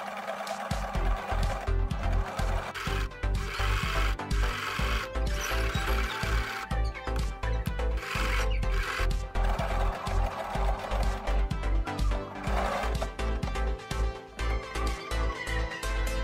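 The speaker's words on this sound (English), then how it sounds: "I fold the fabric strip in half and sew again lengthwise close to the" A sewing machine stitches lengthwise along a folded strip of African print fabric for a choker necklace, running steadily and loudly for the whole stretch with a continuous rapid mechanical chatter and no talking.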